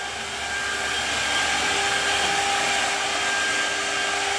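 A CNC machine runs steadily at close range, a continuous broadband whir with a faint high tonal whine holding level throughout, no voices over it.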